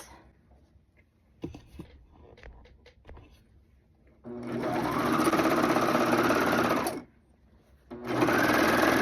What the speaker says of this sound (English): So I'm going to top stitch all the way down here and just keep that denim vibe going on the front and the back.